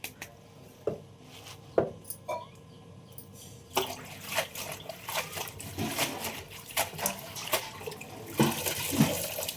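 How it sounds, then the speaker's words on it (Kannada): Water poured from a mug while cooking soppu saaru at home: a quiet start with a few clinks, then a gushing, splashing pour that runs on steadily to the end. "ಇನ್ನೊಂದು ಚೊಂಬು ಹಾಕು"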